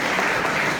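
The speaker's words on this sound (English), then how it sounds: "Give this guy a big round of applause." An audience at a university hypnotist comedy show claps for a volunteer, a short, loud, even burst of applause with no talking.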